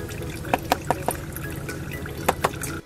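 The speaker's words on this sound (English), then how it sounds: "So we're draining the oil, and now we need to wait some time until the oil will drain all oil on the engine." Engine oil draining from a car engine into a pan, a steady liquid trickle with several distinct drips and splashes close by, no talking.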